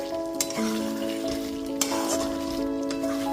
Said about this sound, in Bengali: সমস্ত ভেজে রাখা পনিরের টুকরোগুলো দিয়ে দেওয়ার পর খুব ভালো মতো আমি মিশিয়ে নিয়েছি